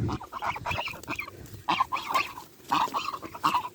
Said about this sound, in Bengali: দেখতে পাচ্ছেন কত সুন্দর সাদা ধবধবে হাঁস দেখতে খুব সুন্দর লাগতেছে